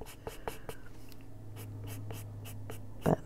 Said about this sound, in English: This is the scratchiest pencil in the set